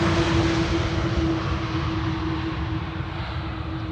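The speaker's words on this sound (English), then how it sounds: "this is KLM flight 765, countdown flight number, arriving from Bonaire, A330-200" A 20-year-old KLM Airbus A330-200 arriving from Bonaire, a loud, steady jet engine roar with a sustained tonal whine, close and continuous, with no voices.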